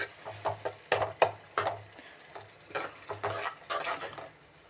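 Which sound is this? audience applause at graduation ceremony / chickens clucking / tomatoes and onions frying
tomatoes and onions frying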